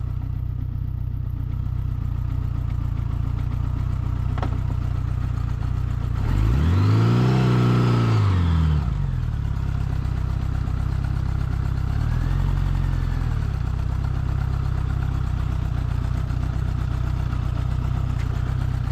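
A 1977 Honda GL1000 motorcycle engine idles low and steady throughout, with a brief rev rising and falling in the middle before settling back to a rough idle.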